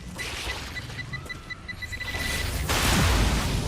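A grenade going off in the sci-fi game StarRupture, a rushing blast that swells near the end over a busy backdrop of game noise and faint electronic beeps.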